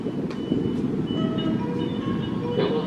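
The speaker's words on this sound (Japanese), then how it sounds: "4番乗りの列車が通過します" A JR West 225 series train passes without stopping through platform 4 at Zeze Station, Japan, rumbling steadily past at close range, a low continuous roar with faint metallic squeals and tones rising above it.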